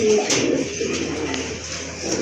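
Colourful pigeons for sale at a market coo softly within a steady wash of background noise, with no clear voices in the clip.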